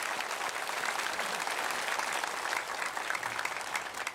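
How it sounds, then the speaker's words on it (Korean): Church congregation, including deaf worshippers, applauding during a service: loud, dense and continuous clapping from a large group, steady throughout without speech. "우리 농인들 박수로 한번 일어납시다."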